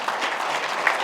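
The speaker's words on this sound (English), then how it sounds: "you can clap for them" Audience applause for the panelists at an HR leadership conference panel discussion, a brief, even burst of many hands clapping in a hall, moderately loud and continuous, no speech.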